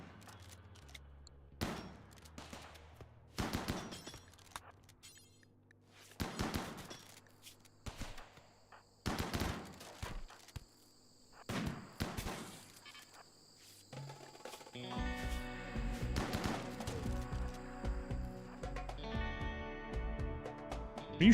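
Gunfire in the colony-simulation game RimWorld, a series of short sharp bursts spaced every second or so, then a denser, louder stretch of rattling shots near the end, with no talking.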